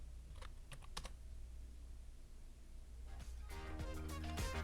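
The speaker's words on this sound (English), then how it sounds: "and then type in your password" A password is typed on a computer keyboard as quiet, quick clicks in short bursts, then a louder, denser run of keystrokes close by.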